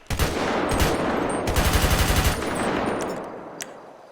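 Carbine rifle in the GTA FiveM game firing sustained automatic bursts, dense rapid shots roughly four seconds long with a short pause mid-burst, loud and close, fading at the end.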